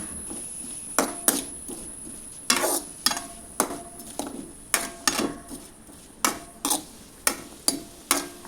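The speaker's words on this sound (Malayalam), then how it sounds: "അതിലേക്ക് വെളിച്ചെണ്ണ ഒഴിച്ച് കൊടുക്കുക. എന്നിട്ട് സവാള ഒന്ന് വാടി കിട്ടണം. അപ്പോൾ അത് വരെ ഒന്ന് ഇളക്കി കൊടുക്കുക." Onion sautéing in coconut oil in a pan, stirred with a spoon that scrapes and taps against the metal in a steady series of sharp, close clicks over a low background sizzle, with no talking.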